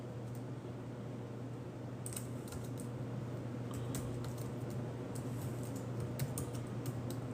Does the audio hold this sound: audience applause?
no